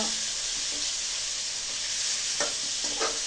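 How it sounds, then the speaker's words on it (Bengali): Tilapia fish frying in oil, a steady broad sizzle throughout with a couple of brief stirring or turning clinks near the end, close and with no talking. "এখন মাছগুলো ভালো করে ভেজে নিলাম"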